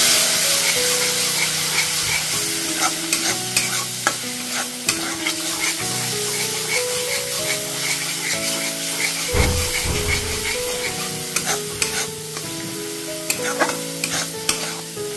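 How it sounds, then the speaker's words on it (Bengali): Masala paste with a splash of water sautéed in a pan for a fish curry with cauliflower and potato: loud, hissing sizzle with frequent scraping stirs, under steady background music. "সামান্য পরিমাণে একটু জল দিয়ে খুব ভালোভাবে এটা কষিয়ে নেব।"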